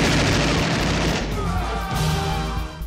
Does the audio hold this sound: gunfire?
yes